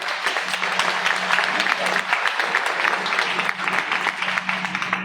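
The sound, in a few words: applause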